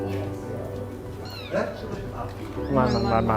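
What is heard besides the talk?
played recording of cat meowing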